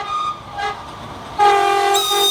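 A passing train sounds its horn in loud sustained blasts, one short tone then a longer, louder one, over a low rolling rumble.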